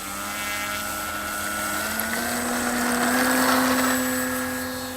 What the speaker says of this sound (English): Yep, that's a half throttle takeoff.